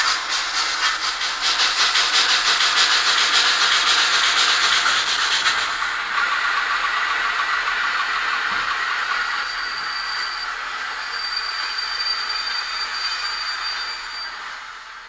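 A PIKO N scale BR 82 model steam locomotive plays its digital driving sound, a loud rhythmic chuffing hiss that drops to a softer steady hiss with faint high whistle-like tones, heard alone.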